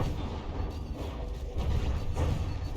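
Cram cannons fire in the naval combat game From The Depths, a series of muffled, deep booms over a rumbling low background, with a heavier thump about halfway through.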